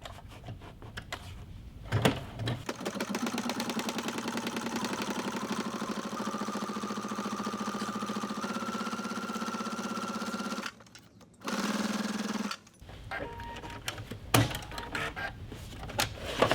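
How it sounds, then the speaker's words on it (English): A sewing machine edge-stitches a Kraft-Tex tote bag in a long, steady close whir, stopping briefly, then running a short burst and a few clicks and thuds near the end. "I'm going to edge stitch it once, and then on the other side, edge stitch it again."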